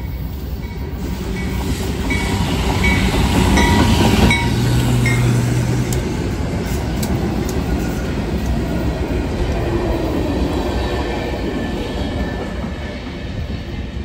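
A southbound train rumbles past nearby, a loud continuous roar with rattling wheels that swells and then slowly fades.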